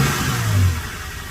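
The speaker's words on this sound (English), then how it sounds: "And the car's cold, so I'm not revving at more than" A cold car engine revs briefly, its low mid-range drone swelling and easing back over about a second, close and steady with no talk.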